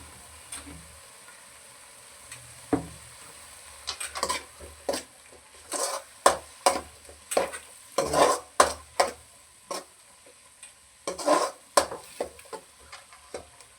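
Salted onions frying for a mutton curry, stirred in a pan with bursts of rapid scraping and clinking strokes over a faint sizzle, near and clear, pausing between bouts with no speech.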